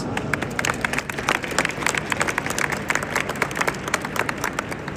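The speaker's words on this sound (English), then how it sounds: "let's give him a round of applause" Audience applause at an AI summit: a large crowd claps loudly and continuously, with sharp individual hand claps standing out across the dense wash of sound.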